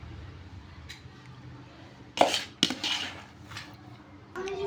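Rice spooned onto layered vegetable biryani in a pot, giving a couple of sharp metallic scrapes and clinks of spoon against pot amid quiet background, followed by a soft muffled thud.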